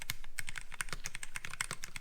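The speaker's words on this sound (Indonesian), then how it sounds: "ini benar-benar pure mechanical keyboard" Rapid typing on a pure mechanical keyboard with a titanium base, dense clacky keystrokes in a steady irregular stream, close and clear with no voices.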